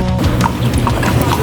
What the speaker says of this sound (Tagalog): Ang kabayo